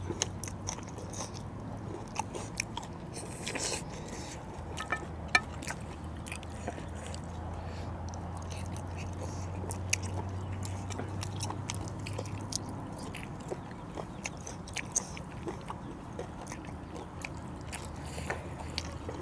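Large cooked shrimp being bitten and chewed outdoors in a field, with quiet, close crunches and wet chewing clicks repeating over a faint low background.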